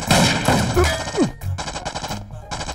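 Gunfire from a scene in a Hindi-dubbed romantic action film: loud, dense bursts of shots mixed with film sound effects and a brief sweeping tone, with no clear talk.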